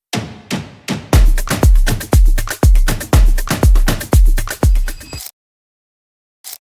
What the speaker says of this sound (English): Now we have a perfect Afro House drum loop.